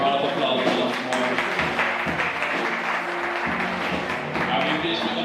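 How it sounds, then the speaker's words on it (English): Audience at a primary school leaving ceremony gives a sustained round of applause, dense steady clapping at moderate level with crowd murmur mixed in, running unbroken for several seconds. "Give them a wonderful round of applause once more."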